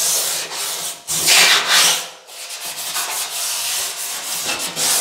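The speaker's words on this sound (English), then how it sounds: "Nothing wrong with over sanding either." Steady hand sanding of a sheet metal panel, rough abrasive strokes rubbing back and forth in an uneven rhythm, close and fairly loud with no voices.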